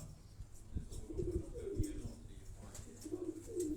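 Teddy pigeons coo in soft, low, throaty rolls repeated every second or so, close and moderately loud, with faint background murmur and a few light knocks.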